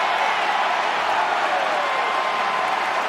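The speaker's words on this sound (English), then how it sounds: "And getting this crowd a little fired up." Football stadium crowd at a Cincinnati Bearcats versus Kansas Jayhawks college game roars in a loud, sustained wash of cheering and whoops that holds steady throughout, with no clear individual voices standing out.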